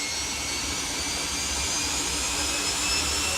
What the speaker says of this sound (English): Well, if you like your pops and bangs and your jets, then Martin Hill is one of the finest expon